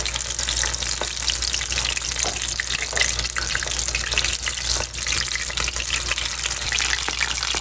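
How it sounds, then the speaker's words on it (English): Battered shrimp, coated in a flour, water and egg batter, frying in hot oil: a loud, dense, continuous sizzle and crackle, close up and steady, with no talking. "We're gonna fry the shrimp until they're golden brown."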